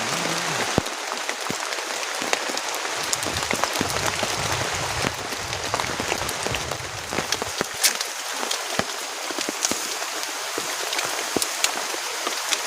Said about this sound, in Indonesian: ini masih turun hujan sekarang